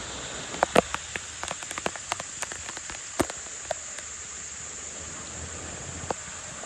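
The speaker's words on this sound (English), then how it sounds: "Just getting out of the rain for a moment until it departs" Rain falls steadily outdoors during a corn harvest. A constant hiss carries scattered louder drops tapping nearby, with no talk.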